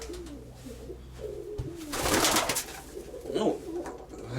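Zaporizhzhia breed flying pigeons coo softly up close, with rustling and flutter bursts in between.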